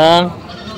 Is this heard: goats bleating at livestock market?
yes